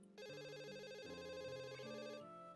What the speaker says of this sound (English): it becomes obvious that the sound's coming from her phone